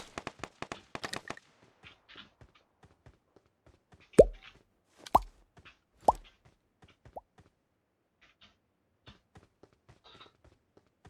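Gunfire in the mobile battle game PUBG Mobile: scattered sharp cracks, a quick cluster of small pops at first, then a few louder distinct shots spaced about a second apart, with faint clicks and taps in between.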